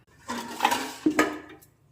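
A metal idli steamer pot set down on a stove, two close clanks about a second apart with a brief metallic ring, in a quiet kitchen.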